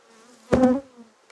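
An agitated honeybee, stirred up by a hornet near the hive, zips past close by in one loud, brief buzz lasting under half a second, against quiet surroundings.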